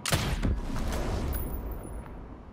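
Gunfire in Ghost Recon Breakpoint as a shot hits an enemy generator: a loud burst of sharp reports up front, followed by rumbling blasts and a trailing explosion-like roar, with no talk.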